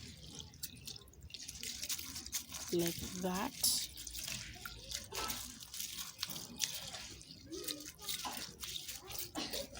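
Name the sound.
water dripping while rinsing rice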